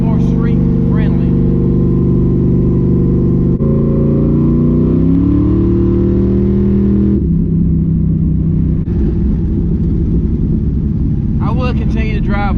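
A car engine, geared to run more like a 373 rear end for more speed at lower RPM, drones steadily and loudly while driving on the street, its pitch rising and shifting midway with some voices underneath.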